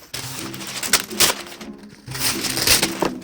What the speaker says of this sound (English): we're gonna crinkle them up